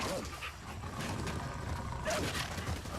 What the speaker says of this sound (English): those dogs are really loud and annoying